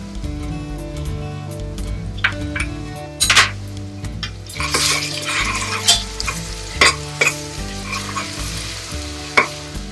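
Ginger garlic paste frying in a pan for moong dal khichdi, a loud close sizzle with spoon scrapes and clinks against the pan.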